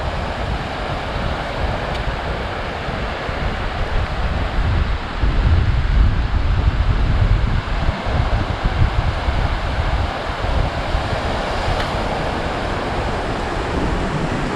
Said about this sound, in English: come out here with us and listen to these crashing waves